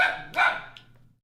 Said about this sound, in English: What are you even barking at?